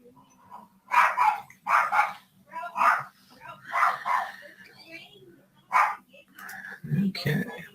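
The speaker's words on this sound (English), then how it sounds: "lots of dog barking" Several dogs barking repeatedly in short bursts at a moderate distance, with a low steady hum underneath and a yip near the end.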